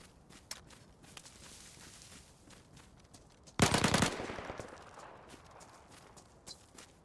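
Full-auto gunfire in the video game DayZ, a single loud dense burst lasting about half a second that trails off into echoing tail, following quieter scattered footsteps and shuffling.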